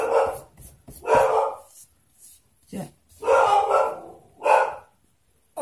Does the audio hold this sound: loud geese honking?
no